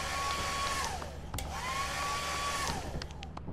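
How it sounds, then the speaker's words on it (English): A hair dryer whines loud and close, switched off and on again so its steady tone dips and returns, with a few clicks and knocks around it. "Look, I brought a hair dryer."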